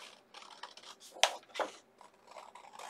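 Scissors snipping through a sheet of scrapbook paper for Easter home decor, a close series of short crisp cuts with one sharper snap near the middle, no talking.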